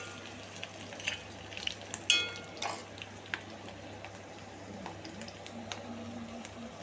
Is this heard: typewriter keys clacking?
no